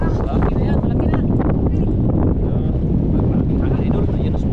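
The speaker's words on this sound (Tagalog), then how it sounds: "Malaking hangin idol." Strong wind at sea buffets the microphone in a constant loud roar, with possible boat noise underneath and no break.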